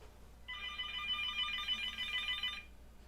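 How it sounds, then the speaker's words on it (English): A home landline telephone rings with a bright electronic trill, one sustained ring burst lasting about two seconds, moderately near, over a quiet room hum with no talking. "And now it's my home phone ringing."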